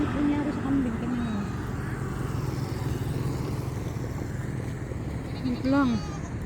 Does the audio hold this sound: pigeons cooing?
no